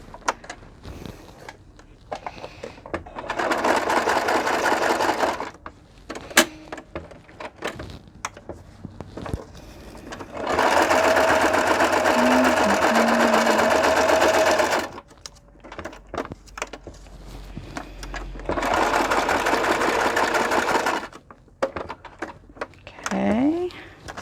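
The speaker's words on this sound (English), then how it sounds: "I'll probably sew around this one too." A sewing machine stitches around the edge of an inked book page in three long bursts of rapid, steady whirring, with quieter pauses, handling noises and some talking between the runs.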